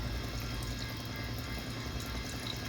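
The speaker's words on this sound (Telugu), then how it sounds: "ఇక చింతపులుసు కూడా పోస్తున్నాను." Tamarind juice poured into a bowl while making Ugadi pachadi, a steady close watery pouring and trickling sound running continuously without pause and with no talking.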